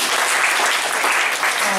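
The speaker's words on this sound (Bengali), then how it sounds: "তো সবাই সবার জন্য একটা হাততালি হয়ে যা।" Dense audience clapping rolls steadily through a school function, a short, even burst of applause from a gathered crowd with no speech over it.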